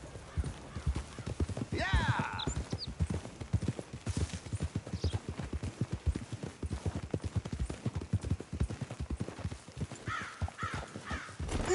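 Horse hooves clip-clop in Red Dead Redemption, a fast, steady run of close hoofbeats with occasional neighs and bird caws, while people talk over the riding.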